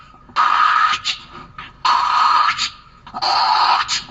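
A voice imitates a solar milking machine in a school festival mimicry act, producing three loud, close bursts of hissing, whooshing noise, each about a second long and separated by short pauses and clicks.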